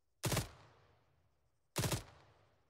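Rifle burst fire in the video game Arma 3: two sharp bursts about a second and a half apart, each a tight cluster of about three very rapid shots blurring together, loud and alone with a short fading tail.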